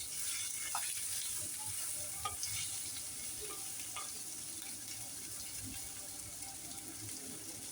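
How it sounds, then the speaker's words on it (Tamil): Vegetables sautéing in a pan with turmeric, a soft continuous sizzle with a few spoon taps and stirring scrapes, fairly quiet and without speech. "இப்போ வதக்குவோம்."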